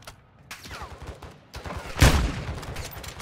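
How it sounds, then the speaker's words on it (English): Gunfire in Call of Duty DMZ: scattered shots and a loud burst of a fusillade, loud and near, with some sharp cracks before it. "There's a guy down low getting shot at."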